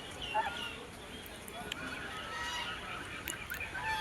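Geese honking at a temple courtyard in Puri, a few scattered calls rising over steady outdoor background noise.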